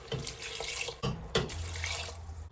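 Water streams steadily into a pot of turkey chili, a continuous splashing pour with a couple of brief interruptions, close and fairly loud.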